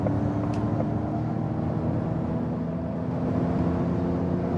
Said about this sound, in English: we are at 100 kilometers an hour, and we can accelerate it out